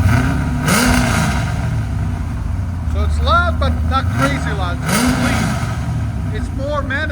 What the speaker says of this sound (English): Give it gas